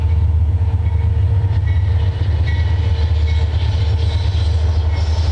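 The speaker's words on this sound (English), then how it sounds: "Hopefully this train won't be a problem." A train passes nearby with a steady heavy low rumble and faint rail clatter, continuous and loud throughout, with no talking.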